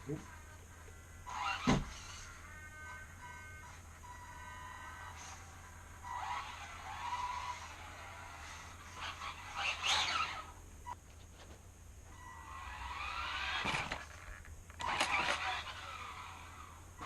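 A Tamiya TT-02 radio-controlled car built as a WRC Toyota Yaris, its electric motor whirring in short bursts as it is run, with rising and falling whines and brief rolling noise, fairly close and moderately loud.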